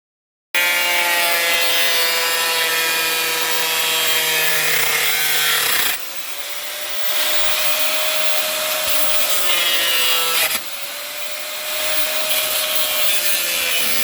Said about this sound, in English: you gotta take Sawzall and cut it out of your bracket